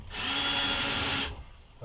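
A power drill whirs steadily for about a second during RV electrical wiring work, a loud close high-pitched whine that stops abruptly, followed by a brief knock.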